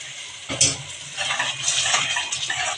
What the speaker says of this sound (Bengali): আমি ওই পেঁয়াজের বাটিটায় করে একটু জল দিয়ে দিচ্ছি